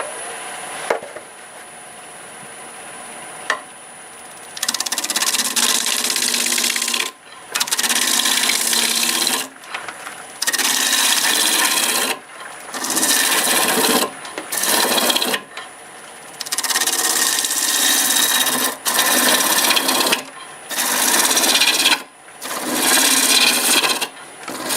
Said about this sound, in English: I'm going to start with the spindle roughing gouge